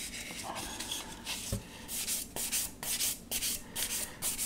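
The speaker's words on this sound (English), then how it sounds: "every time we sand this, the area we're sanding widens" Fine 1500-grit sandpaper rubbing back and forth on a plastic 1/200 scale Scharnhorst model ship, a soft, faint, steady scratchy hiss in rhythmic strokes, close up with no voices.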